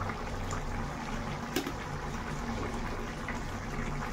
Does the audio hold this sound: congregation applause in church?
no